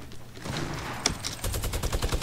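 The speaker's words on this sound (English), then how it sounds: "I'm getting shot now" Video game gunfire in a shooter played with light bullets only: a loud single crack, then a rapid burst of close shots over low in-game rumble.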